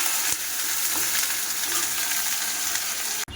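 Papaya pieces fry in a pan with a steady bright sizzle and hiss, a few stirring clatters and a sharp knock near the end, close up and without voices.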